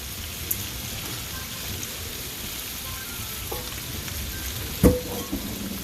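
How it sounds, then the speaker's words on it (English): Peppers and onions frying in oil alongside sausage, a steady broad sizzle with crackles throughout and a brief louder pop and clatter near the end, with no talking. "let's go in and add our veggies. Vegetables going in. Peppers and our onions."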